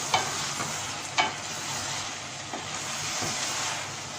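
Onions sautéing in a pot for traditional mutton karahi, a steady close sizzle with a few sharp scraping stir strokes near the start and middle, no talking.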